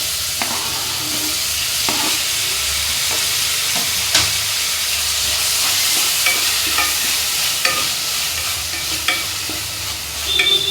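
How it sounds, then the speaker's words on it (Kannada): Tomatoes and chopped green chillies fry in a pan for a soya bean sukka, giving a steady close sizzle broken by repeated scraping and stirring strokes throughout, with no talk. "ಇವಾಗ ಟೊಮೆಟೊ ಚೆನ್ನಾಗಿ ಫ್ರೈ ಆಗಿದೆ"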